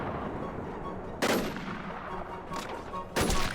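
Bursts of gunfire in the survival shooter Infestation NewZ, two or three short loud volleys rising sharply above a quiet background, spaced unevenly across the moment.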